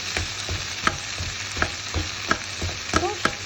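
Chilli being stirred in a single pan, with a steady sizzle broken by regular scrapes and knocks of the spoon roughly every half second, close up, with no talking.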